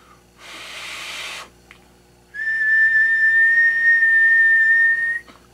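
A steady, sustained whistle into a microphone on a Maco amplifier, held for about three seconds, loud and close, following a short burst of breathy noise and a brief pause.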